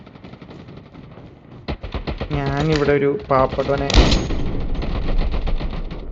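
Gunfire in the mobile shooter Call of Duty Mobile, with a rapid automatic burst and sharp single shots mixed with game effects, loud and close, while someone talks throughout.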